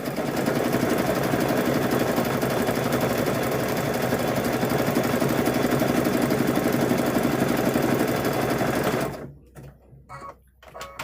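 A sewing machine stitches a patchwork quilt in a fast, continuous mechanical whir for about nine seconds, then stops, leaving quiet room sound with faint movement.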